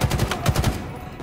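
Rapid automatic gunfire bursts from a Halo Infinite multiplayer match, a quick string of loud shots in the first half that trail off into game ambience.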